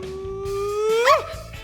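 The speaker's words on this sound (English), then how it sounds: "And this is a small dog." A small dog gives a single drawn-out whine that rises into a sharp yelp, close and clear over faint kitchen background noise.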